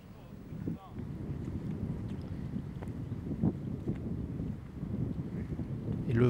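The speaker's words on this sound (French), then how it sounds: "Et le vent, vous voyez, qui va être le vent dont les joueurs parlaient" Wind gusting across an outdoor golf course during a professional tournament, a steady broadband rush with microphone buffeting that swells and dips throughout, continuous and fairly close.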